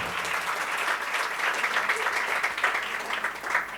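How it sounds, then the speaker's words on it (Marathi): Sustained applause from a church congregation during a sermon, a dense steady wash of many hands clapping together at even loudness throughout, with no voices. "जरा जोरदार टाळ्या पुन्हा एकदा"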